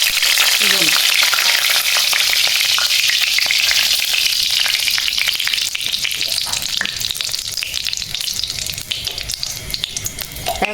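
Dried red chilli and black cumin seeds fry in hot oil for a village-style water spinach dish, a loud, dense crackling sizzle with stirring scrapes throughout, easing slightly in the second half.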